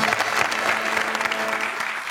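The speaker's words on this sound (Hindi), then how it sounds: "तो मैं चाहूंगा कि मैं और आप इनके साथ मिलके तालियां बजाएं" A studio audience on a television talk show claps loudly and continuously, a thick sustained round of applause with a faint murmur of voices underneath.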